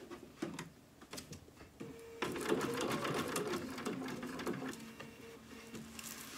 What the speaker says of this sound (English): I changed my thread over to red so I can just sew this right down.